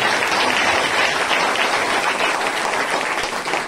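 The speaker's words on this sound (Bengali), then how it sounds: "জোরদার তালি বাজিয়ে ঈশ্বরের মহিমা করুন।" A church congregation breaks into loud, sustained applause, a dense wash of many hands clapping together that holds steady for several seconds and eases slightly at the end.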